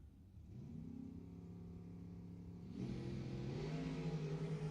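Drag race cars at Lebanon Valley Dragway accelerating hard, a steady loud engine drone with harmonic tones that steps up and grows louder partway through, continuous with no speech.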